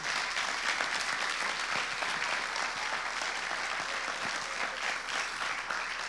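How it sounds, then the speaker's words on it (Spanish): A church congregation at a Spanish-language service claps in a steady, dense burst of applause that holds at an even level throughout. "¿Cuánto le dan un fuerte aplauso al Señor?"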